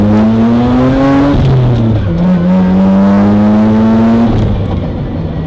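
Mazda RX8 rotary engine fitted with a resonator midpipe exhaust, revving loud and close with rising and falling engine pitch over a steady rasping drone, no talking.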